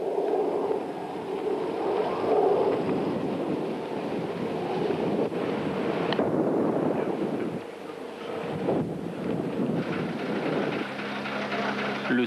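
Mistral wind gusts sweep across a forest fire on a hillside, a broad continuous roar that swells and eases, buffeting the microphone with steady rushing noise.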